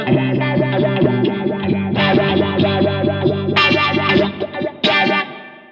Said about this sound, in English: Now in a 4-stage phaser mode, obviously we can push the extremes a lot more.